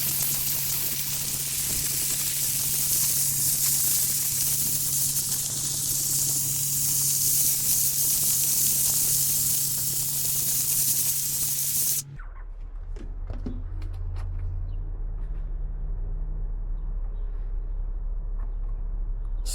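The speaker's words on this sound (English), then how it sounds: "So start steaming this area first." A handheld steamer hisses loudly and continuously while steaming vinyl wrap off a British Racing Green BMW M4, a close, broad spray of steam that cuts off abruptly, leaving a low hum and faint handling noises.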